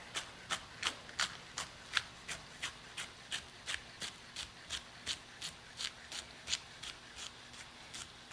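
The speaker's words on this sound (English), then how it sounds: "So I'm gonna cut up some green onions here." Green onions being cut up with a knife on a cutting board, a steady series of about twenty crisp, evenly spaced chopping taps, close but fairly quiet, with no talking.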